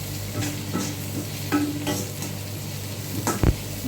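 Onion and potato sauté in a thin pan over medium heat for a potato roast, a continuous close sizzle broken by several spatula scrapes and knocks; no voices.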